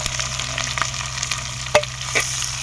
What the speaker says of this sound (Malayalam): നന്നായി ഒന്ന് വറക്കണം.